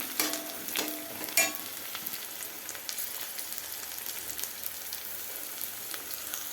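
Onions and chilli sautéing in a pan for a home-style curry, a steady close sizzle with scattered stirring scrapes and crackles, no talk.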